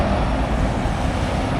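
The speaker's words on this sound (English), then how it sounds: "As you might be able to hear, there are some trucks passing by." Trucks and other traffic pass on a busy main road close by, making a loud, continuous roar of engines and tyres with no pauses.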